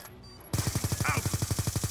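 Rapid automatic gunfire in a video game, a fast even burst of close, loud shots following a short quieter moment.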